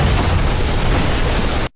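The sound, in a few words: bazooka shell exploding in film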